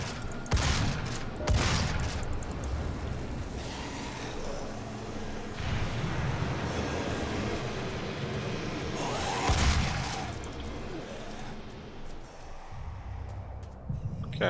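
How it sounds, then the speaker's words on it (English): Rapid gunfire and explosive bursts from a shooter video game on a PC live stream, loud and continuous across the stretch with a few heavier blasts. "Okay, so I just picked up some grenades. We can throw those down now."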